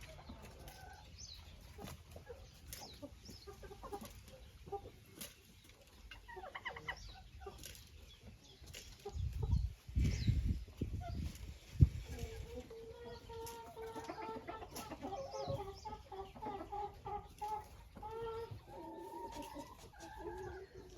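Chickens cluck and murmur around a rooster in a poultry yard, soft scattered calls at a moderate distance, with a louder flurry of wing flaps and clucks midway.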